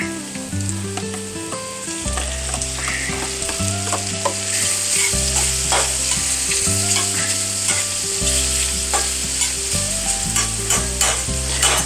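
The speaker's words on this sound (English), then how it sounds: "I'm going to lower the heat a little bit, and then I'm putting in the diced up shrimp" Diced shrimp sizzle and crackle in a hot pan, stirred now and then, heard close and steady beneath loud tonal background music, with no voices.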